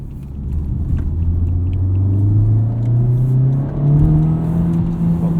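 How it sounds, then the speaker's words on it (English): A 2019 Honda Civic Type R, front-wheel drive, pulling at full throttle out of a corner, engine pitch rising smoothly and loudly over a heavy rumble, close and uninterrupted with no speech. "watch how this thing just rockets out of corners, full throttle, front-wheel drive"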